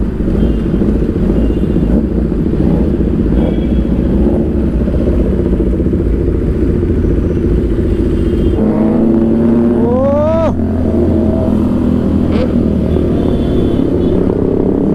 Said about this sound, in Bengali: এতগুলো বাইক যখন ব্রিজের নিচে ভাই সাউন্ড দিচ্ছে না, সাউন্ডটা যা লাগছে কি বলবো